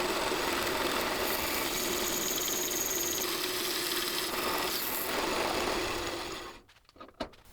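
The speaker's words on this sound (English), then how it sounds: "what I'm going to do is take the bulk of it off on the bandsaw" A bandsaw cutting bulk metal stock for lathe soft jaws gives a steady, loud, grinding whine that runs continuously, then winds down and stops near the end with a few light knocks.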